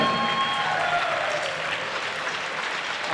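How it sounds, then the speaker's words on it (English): Audience clapping hands at a military chorus performance, a dense, steady round of applause holding at even loudness throughout with no talk over it. "I want you to put your hands together and just start clapping."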